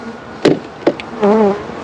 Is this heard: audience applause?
no